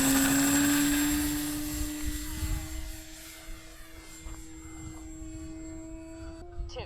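RC model airplane flies at an RC club field under throttle, its engine whine loud at first and then fading to a steadier, more distant drone with a shifting pitch.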